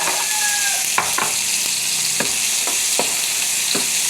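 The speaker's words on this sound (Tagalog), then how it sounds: "Nilikos-likos na ang ating ricado" Garlic and onion aromatics sautéing in a pan for adobong kangkong, a steady bright sizzle broken by several sharp spatula scrapes and clacks at irregular intervals, close and alone with no voices.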